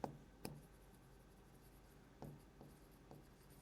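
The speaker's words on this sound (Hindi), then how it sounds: "यहां लिखता हूं मैं इसको" Marker strokes on a board as a biology label is written, a few faint scratchy taps and squeaks spaced apart over quiet room noise.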